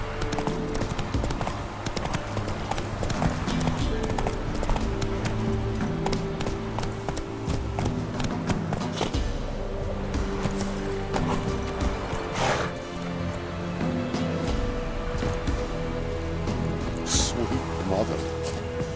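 The horse Roach gallops in The Witcher 3, with rhythmic hoof clip-clops thudding throughout alongside ambient game sounds and a voice speaking in places.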